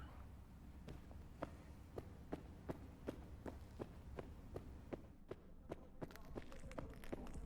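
The player's footsteps in Cyberpunk 2077 thud in a steady, evenly spaced walking rhythm, loud and close over a low hum, with quickening steps near the end.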